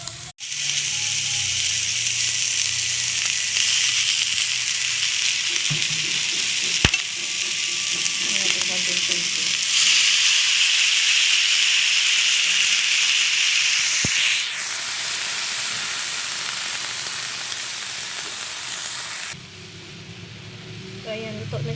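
Chayote leaves and eggplant sauté in a pan with a steady close sizzle and hiss, broken by occasional stirring clinks and scrapes, while a person talks over the cooking.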